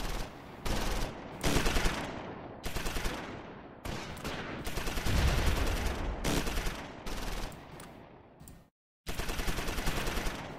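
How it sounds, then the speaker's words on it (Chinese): Suppressive gunfire in the wargame Close Combat 5, set in the Normandy beach landings: loud, sustained volleys and crackling bursts come in several long stretches, broken by short pauses and one brief silence. "压制射击"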